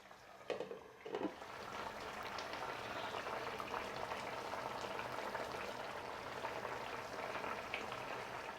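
King prawns with zucchini and tomato wedges cooking in a pan, a steady close bubbling sizzle that holds even throughout after a couple of brief clatters at the start, no talking.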